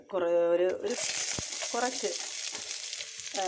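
Mustard seeds and curry leaves sizzle in hot coconut oil for a Kerala prawn thoran, a bright spitting hiss with a sharp pop, between bursts of someone talking nearby.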